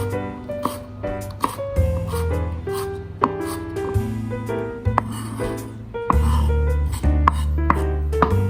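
A knife dicing peeled carrot on a cutting board, with quick, irregular chopping knocks that run close and distinct over steady tonal background music.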